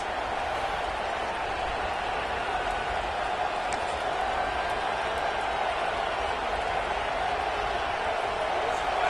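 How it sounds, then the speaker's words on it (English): Steady roar of a college football stadium crowd, Oregon Ducks game, cheering at the opening of the second half; a dense, continuous wash of crowd noise throughout, with no distinct peaks. "This crowd still bringing the intensity to open the second half"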